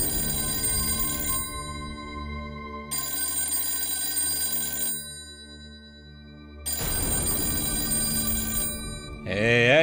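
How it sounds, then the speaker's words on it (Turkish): An old-style telephone bell rings loudly in long bursts separated by short pauses, three rings in all, before a warbling tone cuts in at the end. "Neden kimse telefona bakmıyor?"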